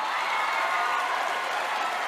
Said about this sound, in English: How about some applause here,